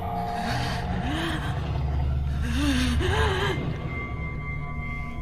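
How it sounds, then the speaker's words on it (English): Pained, labored breathing with groaning gasps in the horror adventure game Spirit Hunter NG, set in an attic with paper lanterns, heard over a steady low ambient drone, with several strained vocal swells in the middle. "hear what sounds like pained breathing"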